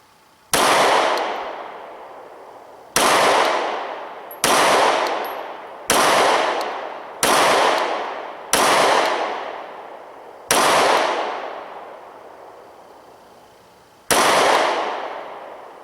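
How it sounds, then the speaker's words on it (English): Eight single shots from a 9mm Springfield XD Sub-Compact pistol with a 3-inch barrel, fired slowly at an outdoor range, each a sharp loud crack with a decaying tail, spaced one to three seconds apart and heard alone. "We'll shoot 4 or 5 rounds, then we'll flip our camera around and see how we're doing."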